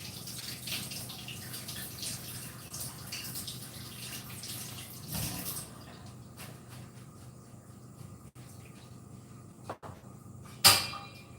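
A carrot is washed under a running kitchen tap, with steady water flow and splashing for about five seconds, then quieter handling and a short sharp knock near the end.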